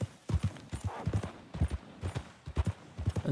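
Horse hooves pounding in Red Dead Redemption 2, the horse an Arabian: a steady rapid galloping rhythm of close, heavy thuds in repeated triplet clusters, moderately loud, with no talk.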